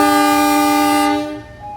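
A local train departing Kepanjen station sounds a long, loud, close horn blast that cuts off after about a second, leaving low rumble.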